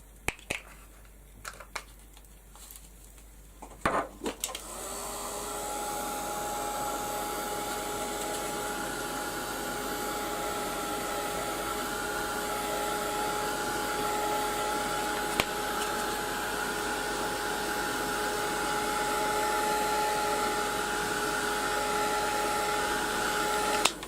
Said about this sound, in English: Now, I'm going to give them a quick blast with the heat gun.